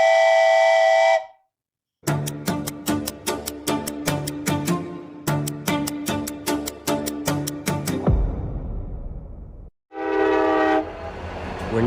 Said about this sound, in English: We're now pulling up to our first group of stops here on the doom train.